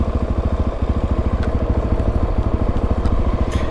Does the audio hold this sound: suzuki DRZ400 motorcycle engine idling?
yes